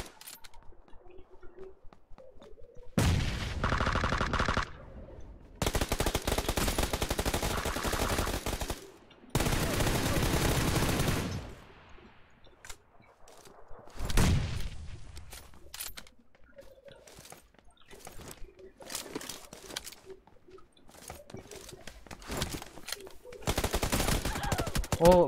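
Automatic gunfire in PUBG, loud bursts of rapid machine-gun shots separated by gaps of quiet, with scattered single shots and shorter bursts toward the end and some talk between.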